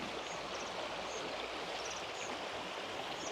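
A river flows steadily nearby, a continuous full rushing of water with no breaks, heard alone without voices.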